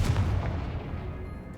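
A Confringo spell explosion in Hogwarts Legacy, one heavy low boom at the start that quickly fades into a dull rumble.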